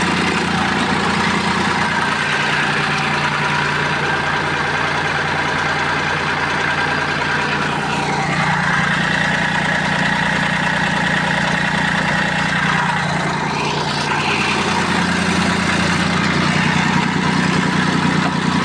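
Mitsubishi MT205 Japanese mini tractor engine running steadily, a loud close diesel chug with rhythmic knocking, rising slightly in pitch partway through as revs shift, no talk.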